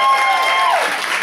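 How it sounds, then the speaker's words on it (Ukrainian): A concert audience applauds at a band's big solo show at the Indigo venue in Kyiv, a dense, continuous wash of clapping heard close, with faint tonal sound from the hall beneath it. "Аплодисменты, друзья!"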